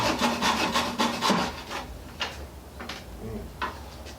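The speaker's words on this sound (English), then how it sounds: "let's start cutting this dowel up" A hand saw cuts a wooden dowel into 2.5-inch pieces, giving a run of rasping strokes that starts quickly and then slows into spaced single pulls, close and moderately loud with no talking.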